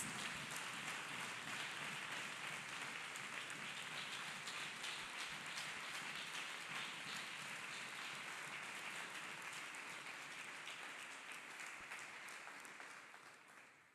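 A church congregation claps hands together in a long, dense, continuous wash of applause, heard from a moderate distance, holding steady before fading away at the very end.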